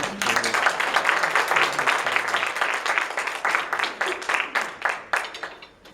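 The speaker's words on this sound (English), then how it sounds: "Give him a round of applause." Audience applause for a performer named Adrian at a songwriters' event, steady dense clapping for about six seconds that gradually thins and fades, with a faint voice briefly underneath.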